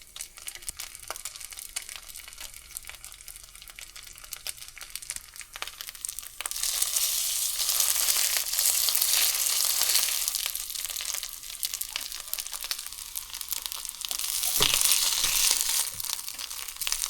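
Rice balls crisping in hot oil in a frying pan, a loud, steady sizzle and crackle that swells partway through and keeps going, with no talking.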